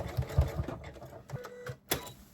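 A sewing machine back stitches the binding on a quilt top, giving short rapid bursts of stitching close by, then a pause and a final sharp mechanical clunk.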